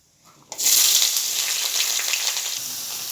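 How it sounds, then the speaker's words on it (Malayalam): Sliced small onions hit a hot oiled pan for a squid roast, bursting into a loud, bright sizzle that starts abruptly and keeps crackling steadily, close up and without voices. "ഇനി നമുക്കിതിലോട്ട് ഇടേണ്ടത് സവാളയാണ് കേട്ടോ."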